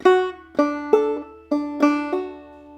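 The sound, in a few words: clawhammer banjo playing a measure of Briarpicker Brown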